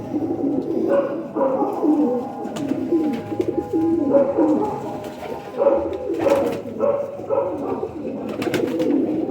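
Old-breed pigeons coo repeatedly close by, overlapping throaty rolling calls rising and falling in bursts, with faint voices in the background.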